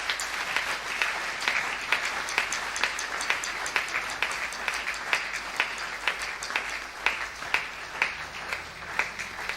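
Church congregation clapping in a steady, rhythmic beat, loud and sustained throughout, with faint voices underneath.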